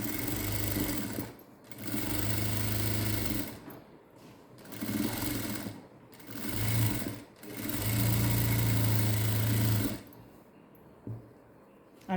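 Domestic sewing machine stitching a blouse sleeve, running in several bursts of steady whirring motor and needle chatter separated by short pauses, close and fairly loud with no talking.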